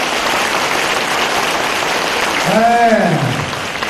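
Audience applause fills a hall at a Buddhist dharma talk in Singapore as a steady, dense wash of clapping, with a short voice breaking in near the end.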